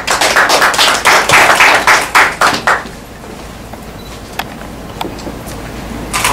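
Applause welcoming a singer and composer at a media event, a few seconds of clapping from a small group that quickly fades to scattered taps and room quiet.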